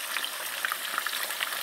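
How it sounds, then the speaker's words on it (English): Tilapia fish frying in hot oil sizzles and crackles steadily, with small pops scattered through a continuous, close frying hiss. "So we are going to fry the fish"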